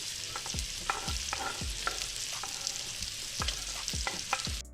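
Bell pepper, onion and celery sautéing in a pot over medium heat: a constant bright sizzle broken by repeated spoon knocks and scrapes against the pot every half second or so, close and without talk.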